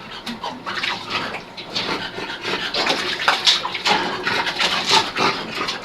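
A wet dog is bathed in a water basin, with continuous splashing and sloshing of water throughout, close and fairly loud.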